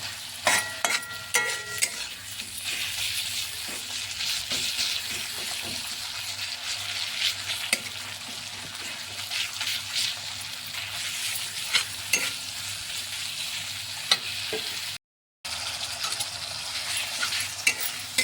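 Tomato fries in a pan for puti fish curry, a soft continuous sizzle with scraping and clinks of a spatula stirring at intervals, close and quiet, with a brief silent gap near the end.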